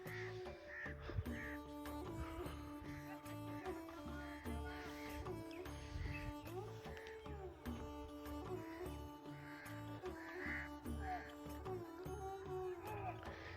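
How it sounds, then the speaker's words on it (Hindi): Crows cawing over a wheat field as they are chased off, repeated harsh caws from several birds throughout, some near and some farther off, in a rural village setting. "ये देखिए ये कौवे जो है ना उड़ाए जा रहे हैं,"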